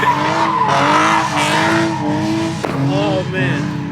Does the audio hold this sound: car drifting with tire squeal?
yes